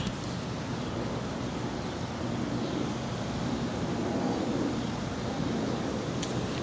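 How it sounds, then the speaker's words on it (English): Airplane passing overhead near Reagan National airport: a steady, broad, distant roar that swells slightly and then eases, with no other distinct sounds. "Nope, it's a flyover."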